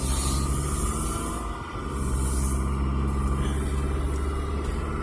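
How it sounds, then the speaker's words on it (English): Steady drone of a car's engine and road noise heard from inside while driving, loud and continuous, with a brief dip in level partway through. "I think my car is getting louder because it's like hard for me to talk over it now"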